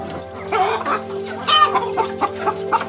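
Desi chickens on a poultry farm: several hens clucking close by in short, repeated bursts, with one louder squawk over a steady background hum.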